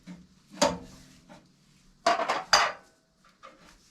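Metal wrench clanks and scrapes against a brass fitting while tightening an expansion tank onto a hot water heater, with sharp separate knocks and short ratcheting scrapes between quiet pauses, close by.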